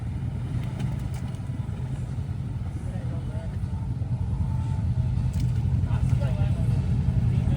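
A Can-Am Honda ATV at a mudfest churns through deep mud with a continuous low engine rumble that swells toward the end, mixed with splashing, while people talk over it.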